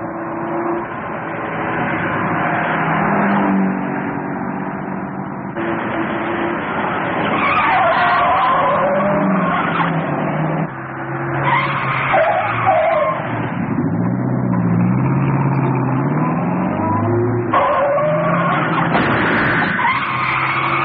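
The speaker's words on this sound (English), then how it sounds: "Take the next corner easy and then step on it." A car in a 1949 film noir chase speeds loudly around a corner, engine roaring continuously with repeated drawn-out tire skids and squeals, close and without talk.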